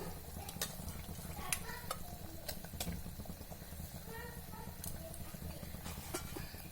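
Prawn-head sambar bubbles at a boil in a pot while a spoon stirs it, giving a steady close sizzling simmer with frequent sharp clinks and scrapes of utensil against metal throughout.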